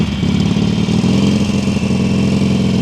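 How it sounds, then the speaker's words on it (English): A motorcycle engine held at a high, steady rev with the throttle open too far, loud and close, droning evenly without pause during a riding lesson. "listen to that throttle. It's too high"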